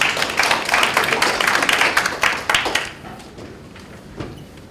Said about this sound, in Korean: 여러분 박수 한번 부탁드리겠습니다.